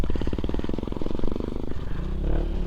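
A Honda Click 125i scooter with worn, bald tyres is ridden on a rough off-road trail near a riverside campsite, its engine putting out a close, pulsing putter with rattles and scrapes, then shifting pitch as it slows.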